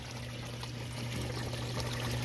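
Water pouring and trickling steadily through the piping of an aquaponics grow bed, a continuous close splashing stream with a low hum beneath, no voices.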